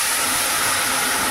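Water poured into a hot pan of turmeric and salt curry base for a mustard-poppy fish curry hisses in a loud, continuous broadband sizzle close up, with a small pop near the end.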